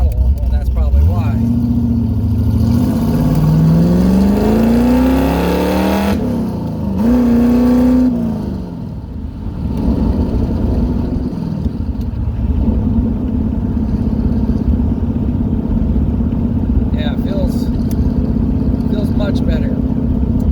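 A car engine revs hard as the throttle is pushed wide open, rising and falling through loud, close sweeps before settling into a steady drone, with someone talking over parts of it.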